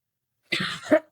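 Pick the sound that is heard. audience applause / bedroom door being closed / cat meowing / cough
cough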